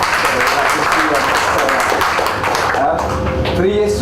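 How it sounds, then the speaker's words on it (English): A presentation audience breaks into a brief burst of applause, a dense steady patter of clapping that fills the moment, with voices heard faintly near the end. "Applause to you."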